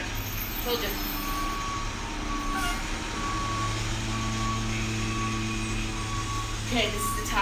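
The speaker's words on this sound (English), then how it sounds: "Here comes the trash truck." Garbage truck reversing, its backup alarm beeping steadily in a regular repeating pattern over a low diesel engine rumble, heard in the background of a home workout with a voice briefly present.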